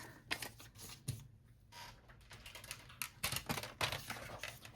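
Beautiful Galleries patterned paper being cut for a handmade card, heard as a close run of crisp, irregular snips and rustles.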